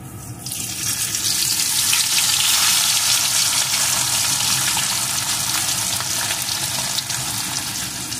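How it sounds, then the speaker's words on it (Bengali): A strong, steady sizzle of pomfret fish frying in hot mustard oil swells up and holds, with a dense crackling hiss heard close up. "এখন আমি মাছগুলোকে দিয়ে প্রথমে ভেজে নেব।"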